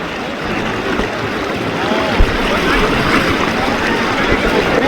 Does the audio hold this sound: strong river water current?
yes